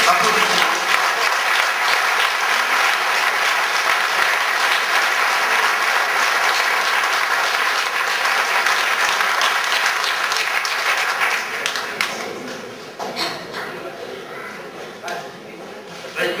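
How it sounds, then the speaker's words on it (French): An audience applauds at a speaking event, with loud sustained clapping from many people that lasts over ten seconds, then thins out to scattered claps and faint shuffling and voices. "Applaudissements."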